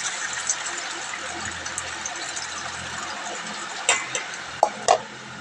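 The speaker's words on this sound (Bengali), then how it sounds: "চালটা ধুয়ে নিচ্ছি, ভাতটা বসিয়ে দেব।" Rice is washed by hand in water in a home kitchen, with soft swishing and a few sharper splashes near the end, while a voice talks faintly in the background.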